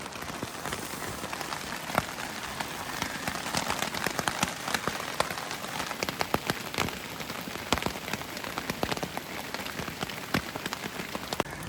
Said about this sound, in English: Still raining. Raining harder now.